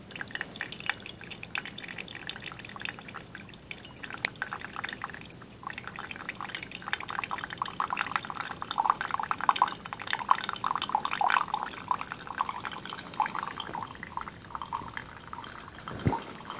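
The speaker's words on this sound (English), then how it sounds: "So now we're going to carry on pouring" Water poured steadily onto a digital scale for a coffee brew, a continuous mid-pitched liquid trickle with a few drips, close and fairly quiet throughout.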